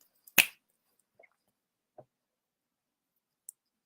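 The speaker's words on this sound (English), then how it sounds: "either clap your hands or click your fingers to finish this ritual" A single crisp finger snap rings out close in an otherwise quiet room to close a mermaid ritual, followed by a few faint soft clicks.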